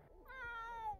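A cat in The Sims 4 gives one clear, drawn-out meow that falls slightly in pitch, quiet and alone with no talking over it.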